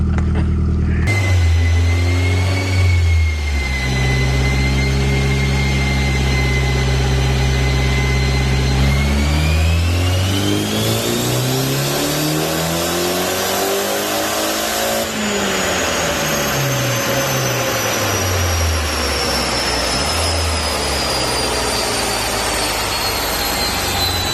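An SR20DET turbo engine swapped into a car revs hard at high power, a loud, continuous close-up roar whose pitch climbs, dips and climbs again through repeated sweeps with no talking over it.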